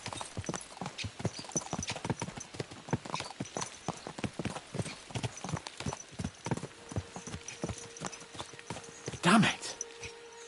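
Horses gallop in the medieval game Kingdom Come Deliverance 2, with a steady rapid clip-clop of hooves throughout and a brief whinny near the end, while a voice talks quietly underneath.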